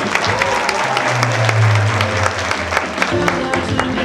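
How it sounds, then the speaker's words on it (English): A graduation ceremony crowd at the University of Embu in Kenya claps in a steady, dense wash of applause, loud and continuous throughout, with a low murmur of voices underneath. "A better clap for yourself"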